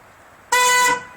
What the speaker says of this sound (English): you pull this switch up, and there's the air horns